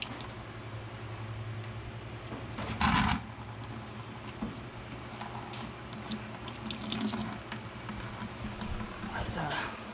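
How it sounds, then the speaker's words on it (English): Muddy water draining out of a blown Ford Mustang 2V engine, a steady splashing trickle running under a constant low hum with a louder gush near the start. "Mud water."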